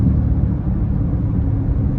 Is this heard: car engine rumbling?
yes